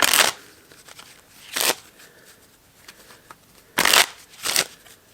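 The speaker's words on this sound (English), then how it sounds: "we'll just stick that card back in and shuffle" A deck of playing cards is shuffled in four quick riffling bursts, each a short crisp flutter of snapping cards, close up, separated by brief quiet gaps.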